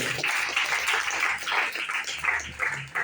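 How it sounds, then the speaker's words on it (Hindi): A church congregation claps together during a Bible teaching session, a dense burst of applause that carries on steadily for about three seconds with no voices over it. "ताली बजाएंगे।"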